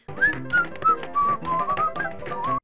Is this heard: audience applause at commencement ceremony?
no